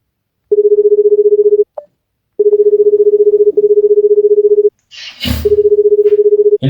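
A telephone is dialed to call a winner: a series of loud, clipped touch-tone beeps in three bursts, broken by short gaps and a brief handling clatter, with no talking.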